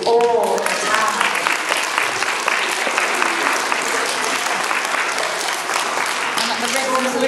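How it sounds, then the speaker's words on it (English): Warm, continuous clapping from parents in the audience at a school nativity play, full and steady for several seconds, with a voice briefly audible at the start. "You need to give a big, big clap to your mums and dads"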